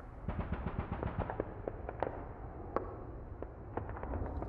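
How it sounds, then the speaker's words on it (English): Mid-distance battle ambience: a steady stream of scattered gunfire pops and bursts with occasional louder explosion-like cracks over a continuous rumbling bed, moderately quiet and without voices. "Next is a mid-distant ambience that contains more gunfire and explosions."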